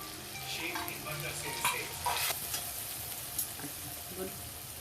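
Vegetables with garam masala, red chilli and turmeric sizzle in a pan, a steady close frying hiss with a few soft stirring scrapes, moderately loud over a short stretch.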